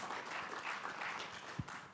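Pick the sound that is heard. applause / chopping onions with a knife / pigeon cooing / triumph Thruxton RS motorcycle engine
applause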